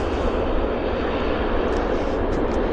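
An Air India jet taxis at Vancouver airport, giving a steady, loud, broadband engine rumble and whine that holds constant throughout.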